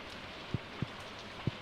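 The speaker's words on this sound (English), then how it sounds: "Oh, it's a rainy day today?" Rain falls in the video game Stardew Valley on a rainy day, a soft steady hiss with three distinct low patters or drips spaced irregularly through it.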